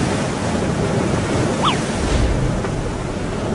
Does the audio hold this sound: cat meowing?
no